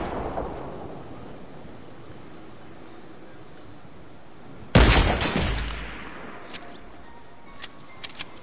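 A single loud sniper shot cracks out in a PS4 shooter after a quiet stretch, followed by a decaying rumble and a few sharp smaller impacts afterward.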